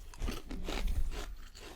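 Close, crisp crunching and chewing of chips and Havarti cheese during a wine and food pairing, a few irregular bites and munches, quiet, with no talk over them.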